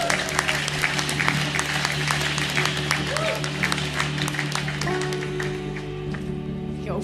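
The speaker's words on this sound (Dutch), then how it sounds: "Ja, super groot applaus voor Sanne Matthijs," An audience at a worship night claps loudly and steadily for several seconds, with cheering voices mixed in and a sustained low hum underneath.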